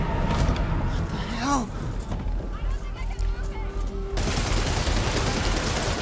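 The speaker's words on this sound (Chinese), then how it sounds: "我直接开枪啊！" Rapid bursts of gunfire ring out in the Marvel's Spider-Man video game, with loud shots over dense game sound effects while someone talks excitedly throughout.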